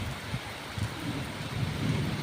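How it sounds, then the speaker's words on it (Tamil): Heavy rain with thunder, a dense, continuous roar of downpour with low rumbling swells, loud and steady throughout, no voices. "நல்லா இன்னுமே பேஞ்சுக்கிட்டு தான் இருக்குது உங்களுக்கு"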